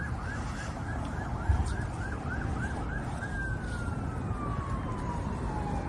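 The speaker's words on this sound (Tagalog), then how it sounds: "May wangwang" An emergency vehicle siren wails on a Canadian street, first a rapid repeating yelp that then shifts to a long rising wail, loud over steady traffic rumble.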